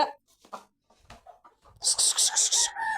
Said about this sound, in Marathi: तर कोंबड्या बी बघा